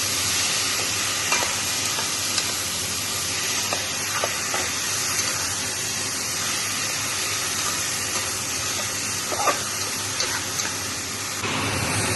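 Whole spices sautéing in a pressure cooker give a steady, close-up sizzle and frying hiss, broken by scattered faint scrapes and stirring clinks, with no one talking.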